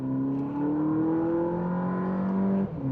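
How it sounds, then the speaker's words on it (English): A 2023 Volkswagen Polo GTI engine pulls steadily under acceleration, its rising drone running loud and continuous from a close interior position for about three seconds, with no talking over it. "It's a very nippy engine."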